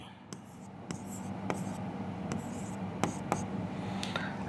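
A math integration is written out on a board in a series of short, scratchy strokes with brief pauses between them, close by and fairly quiet over a steady background hiss.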